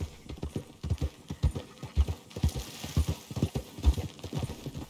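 Horse hooves clip-clop in a quick, steady rhythm of sharp, close knocks, with faint background ambience and no talking, in the video game Red Dead Redemption 2.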